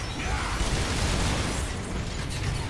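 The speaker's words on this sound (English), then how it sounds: "It's like basically just a rocket launcher that's a shotgun." Rocket-launcher shotgun blasts from the Earth Defense Force video game, a dense, continuous roar of overlapping explosions and bursts filling the whole stretch at steady loudness with no clear gaps.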